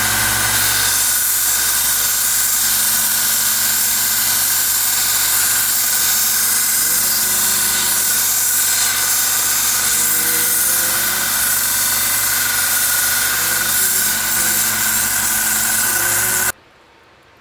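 A belt sander with 120 grit sandpaper whines continuously and loudly with a steady motor drone, the pitch dipping slightly as old tool handles are pressed against it, then abruptly stops.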